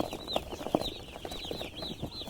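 A flock of newly arrived broiler chicks at a village poultry farm peep continuously in high rapid chirps, with a few louder clucks and knocks close by.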